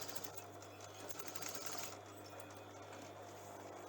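A sewing machine stitches a second row on denim jean shorts, a close, steady rapid mechanical whirr with a brief louder burst near the start before running evenly.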